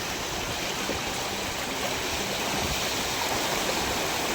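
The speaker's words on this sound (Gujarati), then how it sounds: "તમે જોઈ શકો છો કે આ પાણી જઈ રહ્યું છે" Sabarmati floodwater pours across a village road near fields in Pisawada, Dholka, making a steady, dense rushing roar that holds evenly from start to finish with no voices.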